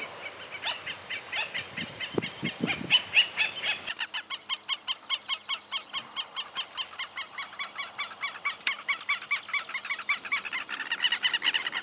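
A flock of ducks, collared and yellow-billed pintail, calls in rapid, repeated honking notes at a lagoon shore, steady and fairly near, with a few low splashy sounds near the start and no talking.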